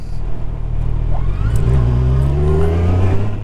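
A 2019 Kawasaki Ninja Z1000SX motorcycle engine revs loudly and close by, its tone climbing steadily through a continuous, unbroken run with no talking.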